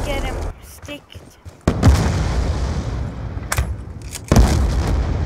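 Gunfire and explosions in the video game Black Ops 2, loud booming shots and bursts in an uneven sequence, with voices talking over the action.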